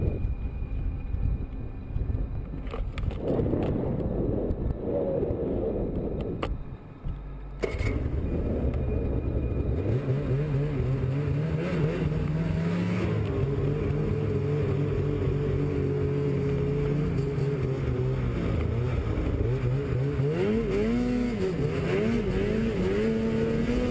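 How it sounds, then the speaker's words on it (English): Snowmobile engine roaring steadily as it climbs a steep snowy mountain near Sisimiut, Greenland, with revving pitch rising and falling, wind buffeting the microphone throughout and a brief drop in sound partway. "snowmobile enthusiast Chris Kenny Stovelbuck attempting to become the first person to ride up a steep mountain"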